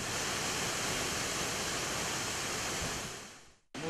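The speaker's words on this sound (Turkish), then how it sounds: "Girlevik Şelalesi doğal güzelliği ve serin havasıyla yerli ve yabancı turistlerin ilgisini" Girlevik waterfall in Turkey pours as a constant, dense rushing roar of falling water, heard close and loud, then briefly cut off near the end.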